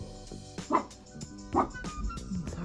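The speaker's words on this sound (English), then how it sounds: "My dogs are just absolutely barking like crazy today." Several dogs bark indoors in a home, with a few distinct yips and barks spaced about a second apart, moderately loud against a quiet background.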